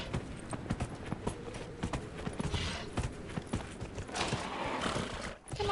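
Hoofbeats of a summoned horse mount in the Dragon Age Inquisition video game, a steady clip-clop with a whinny, up close and loud over game ambience, with faint talk underneath.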